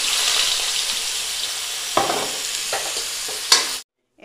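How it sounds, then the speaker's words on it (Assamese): Onions hiss and sizzle loudly in a fully heated kadai, with a few louder stirring scrapes and clatters over the steady frying before it cuts to silence. "এতিয়া আমি প্ৰথমে ইয়াত পিঁয়াজখিনি দি দিলোঁ"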